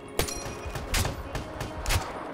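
Gunfire in the Black Ops 3 multiplayer shooter comes as repeated shots in a loose rhythm about every half second, moderately loud over a constant background of game noise.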